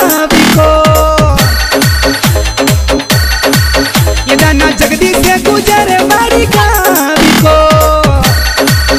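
A phone ringtone plays a loud, bouncy Rajasthani-style DJ song in a comedy number, with a steady repeating beat and bright looping melody filling the whole stretch without pause.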